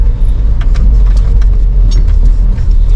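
Car driving off from an unpaved off-road parking area near a technology museum, with a steady low engine rumble throughout, close and fairly loud, and faint rattling on top.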